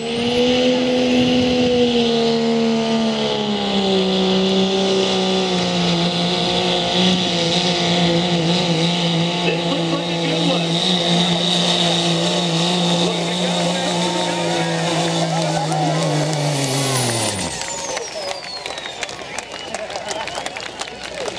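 A diesel pulling truck at an NHRDA truck pull in Bakersfield roars at full throttle, its engine pitch sliding slowly downward with a high turbo whine through the run, then cutting off sharply, and an announcer talks over it.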